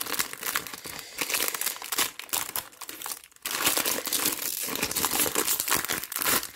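A plastic packet crinkles and crackles up close as a Lego Movie 2 minifigure is taken out of it, with dense rustling bursts, a short pause and then more steady crumpling.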